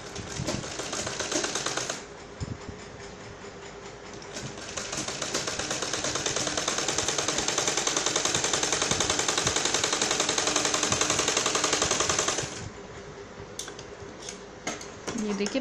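A sewing machine stitches a straight seam along a doubled fabric strip, running in a fast, close, rapid clatter that starts, pauses briefly, then runs steadily for about ten seconds before stopping amid light handling noises.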